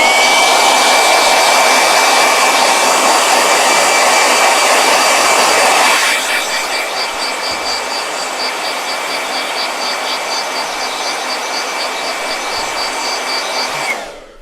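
A blow dryer runs loud and close in a steady whoosh, drops to a lower, quieter setting partway through, then cuts off at the end.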